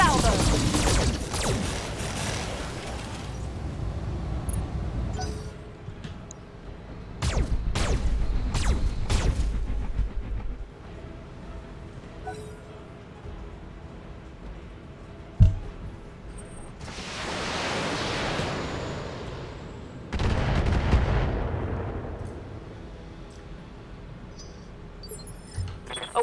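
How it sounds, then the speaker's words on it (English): Mech unleashing a full weapon salvo in the Battletech video game, a rapid volley of sharp shots and booms in clustered bursts, followed later by rushing explosive swells and a single sharp impact, with game sounds between. "Firing a full salvo."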